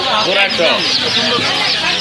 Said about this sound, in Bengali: টাইগার মুরগির বাচ্চা দেশি হাঁসের বাচ্চা